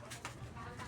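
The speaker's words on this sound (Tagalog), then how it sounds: "ito yung ating kalapate, mga kalapatids" Pigeons coo nearby in a short, low, soft burst, with a voice talking over them.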